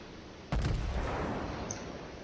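A single heavy salvo booms out from the main guns of the battleship New Mexico in the naval combat game World of Warships, a sudden deep blast whose rumble rolls on and fades slowly.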